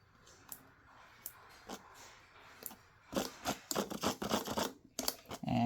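Scissors snip embroidery thread tails in a hoop, a run of close, crisp cuts and small scrapes that quicken and grow louder toward the end.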